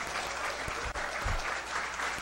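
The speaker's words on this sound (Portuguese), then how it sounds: "Vamos levantar e vamos dar uma salva de palmas para ele." A round of applause during a municipal council session, steady dense clapping from a room full of people with a couple of low thumps, heard alone without speech.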